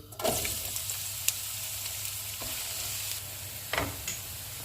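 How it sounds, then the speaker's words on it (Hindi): Chopped onions frying in hot oil in a pan for mutter pulao, with a steady close sizzle throughout, a few stirring scrapes and clinks, and no talking. "ऑयल गर्म हो गया, इसमें प्याज डाल देंगे।"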